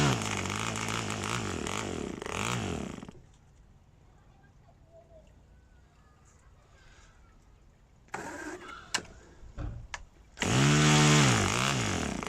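A small PAW model engine that had sat unused for a long time runs loud and buzzing, cuts out to near silence, pops and sputters a few times, then roars back up to full speed, all close by.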